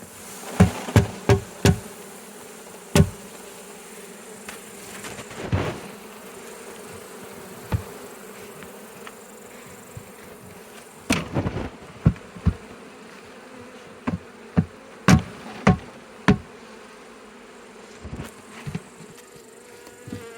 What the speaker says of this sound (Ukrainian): Тут буде маленько бджоли.